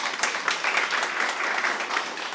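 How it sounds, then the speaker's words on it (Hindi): A crowd of students applauds steadily and fairly loudly at a free BPSC exam practice event in Bihar, a dense even patter of many hands with no talk over it. "इसके लिए 2 तालियां तो बनती हैं"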